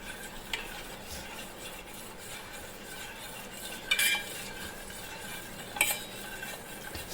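A spoon stirs country sugar into a hot jelly mixture in a pot with soft continuous scraping close by, broken twice by sharper clinks of the utensil against the vessel.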